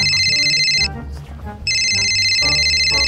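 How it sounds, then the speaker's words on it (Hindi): A mobile phone ringtone plays loudly in repeated electronic bursts with a short gap between them, with faint voices in the background. "ये किसका फोन बाज रहा बाबा?"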